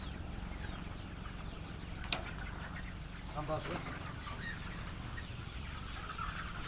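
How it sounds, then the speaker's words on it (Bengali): Chickens cluck in a 45-day-old flock on a rooftop poultry farm, a steady dense background of hens with brief louder calls, while someone talks over them. "এই হচ্ছে আমার মুরগির খামার।"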